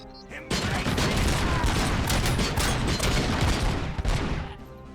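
Sustained gunfire from a firefight in RoboCop: Rogue City, a dense continuous barrage of shots and impacts at steady loudness for several seconds, with a voice speaking briefly.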